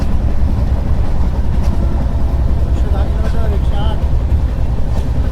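Jaipur–Bandra Terminus superfast express (22934) running at speed, heard from inside as a loud, constant low rumble and rattle of the carriage, with faint voices in the background.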